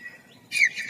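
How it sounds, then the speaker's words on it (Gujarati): A single bird call rings out, bright and high, following a fainter thin whistle, with no other sounds around it. "મારી પાછળ આ પંખી બોલે છે"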